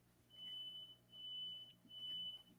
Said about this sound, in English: someone's always setting off the fire alarm in here.